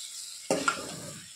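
Ivy gourd curry frying in oil in a pan: after a quiet moment, a sudden burst of sizzle as the mixture is stirred, a spatula clink, then the crackle settles and fades.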